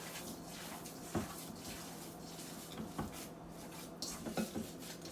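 Ground Italian sausage meat is lightly tossed with sprinkled spices in a bowl, giving soft, steady rubbing and scraping with a few sharp clinks of a utensil against the bowl, fairly quiet throughout.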